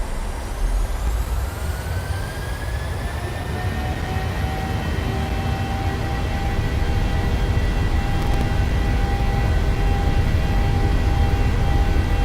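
Boeing 737 jet engines in the PMDG flight simulator spool up for takeoff: a loud, continuous roar with rising whining tones that climb and then hold steady as thrust builds, with no talking.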